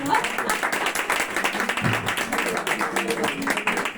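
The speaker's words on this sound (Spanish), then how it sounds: "un aplauso para Paco" Audience applause at a Spanish gastronomy talk gathering, a steady dense patter of many hands clapping at moderate volume, with a voice or two faintly mixed in.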